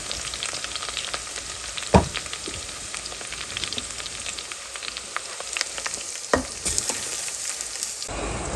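Chicken sizzles loudly in hot oil with browned onions and ginger-garlic paste, a steady dense frying hiss broken by a couple of sharp stirring knocks from a spoon in the pan.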